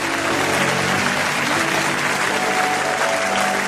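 A church congregation claps and cheers in loud, sustained applause that fills the room, with a few voices audible within the crowd.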